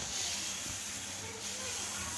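A steady hiss of sizzling comes from dosa batter, ground from horse gram and green gram, spread on a hot oiled griddle. A voice sounds faintly beneath it.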